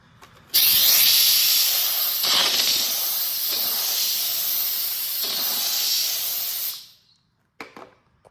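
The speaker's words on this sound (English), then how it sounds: "So this is just a little bit of the steamer." A handheld steam cleaner blasts steam along bathroom grout lines in a loud, steady hiss that runs for about six seconds, then cuts off, leaving near silence broken by a few faint clicks.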